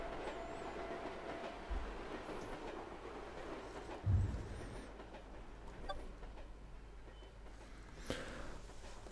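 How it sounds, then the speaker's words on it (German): A short freight train rolls along tram tracks in the A-Train 9 simulation game, a steady soft rumble with occasional clunks and clicks, heard alone at low level. "hätte man einen super kurzen Güterzug, der theoretisch eben auf die Straßenbahngleise passt"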